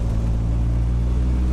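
A car fitted with a Mazda 1.8 engine runs at a steady idle, a close, constant low rumble with no change in pitch and no voices.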